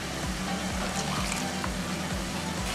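Water poured into a mixer jar holding leftover green masala while cooking Mumbai-style hara masala qeema, a soft, steady trickle with faint low knocks at close range.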